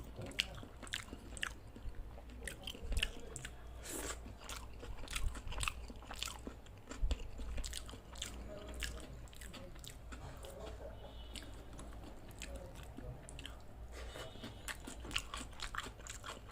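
Tilapia fish with spiced khichuri rice is chewed up close at a rooftop barbecue party, with quiet, irregular crunches, bites and soft squishy mouth sounds spread across the clip.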